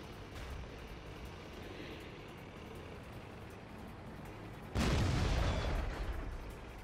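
Artillery fire booms in a World of Tanks battle: a muffled rumble of engine and distant fire, then one loud, close blast about two-thirds through that rolls off slowly.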